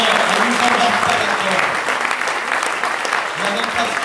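Crowd applause at a political rally in Le Mans, loud and close, with clapping that carries on under raised voices and brief shouts from the audience.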